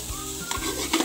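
Egg fried rice is stir-fried on a high flame, with a short burst of sizzling and a spatula scraping and clinking against the pan up close.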